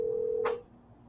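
A single short telephone tone sounds at close range, a steady beep cut off by a brief bright burst, then near silence.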